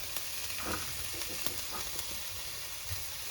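Onions frying in a pan for homemade onion gravy, a steady close sizzle with occasional stirring scrapes and small pops, no talking.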